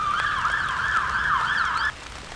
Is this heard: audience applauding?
no